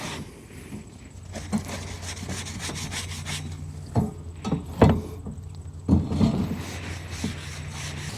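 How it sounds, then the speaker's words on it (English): A Scotch-Brite scrubber scours a Hasty Bake grill with rough, irregular rubbing strokes, scratchy and close, with several sharper scraping bursts and brief pauses, under low background hum. "I think I'm going to use my Scotch-Brite scrubber"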